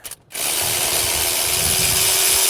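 A ratchet works loose the starter motor bolts on a BMW E9X with an N51/N52 engine, a close, continuous rapid clicking that starts after a brief pause and runs steadily to the end.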